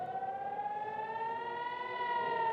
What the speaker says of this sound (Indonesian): Sirine pun terus berbunyi tanpa henti saat rudal memasuki langit kota Naharia.